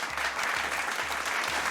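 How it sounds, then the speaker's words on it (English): A crowd breaks into steady applause at a comedy D&D tabletop session, a dense, even wash of clapping that holds for the whole moment with no talk over it. "they all begin to slow clap because you finished this mission"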